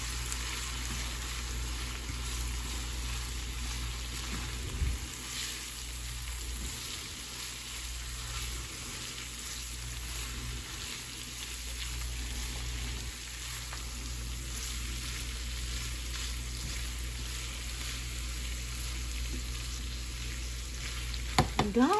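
Beef and chorizo fry in a pan for empanada filling, a steady close sizzle that holds throughout with occasional stirring scrapes.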